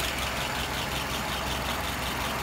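Car engine idling at about 620 rpm, a faint and even low rumble with a soft mechanical texture that runs steadily and alone.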